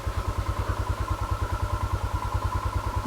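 Motorcycle rolling downhill off-road in neutral on a mountain trail, with a steady pulsing low engine idle thumping at a regular rhythm and a faint mechanical clatter on top, close and continuous.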